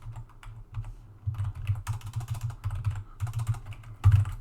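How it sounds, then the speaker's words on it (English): Rapid keystrokes on a computer keyboard during a programming lecture, a steady run of close, irregular clicks with a heavier thump near the end and no talking. "having trouble typing today"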